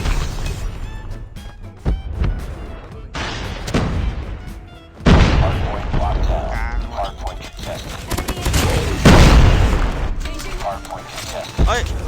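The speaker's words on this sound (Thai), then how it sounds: "เอฟเฟกต์ระเบิดก็เยอะ" Gunfire from a Kilo 141 rifle and explosions in Call of Duty Mobile: loud, close bursts of shots and heavy booms that come in clusters, with a voice heard between them.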